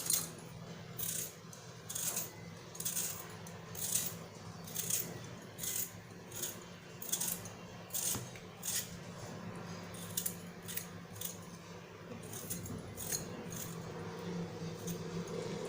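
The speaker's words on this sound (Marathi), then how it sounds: "हे बघा, छान आपण बटाटा सोललेला आहे" A potato being peeled with a knife, heard as a run of short, crisp scraping strokes in a steady rhythm, close and fairly quiet, with no talking.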